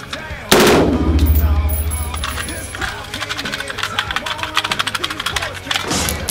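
AR-15 firing fully automatic from a Pro Mag magazine: one sharp report, then a rapid rattling burst of shots, close and loud, with brief voices around the gunfire.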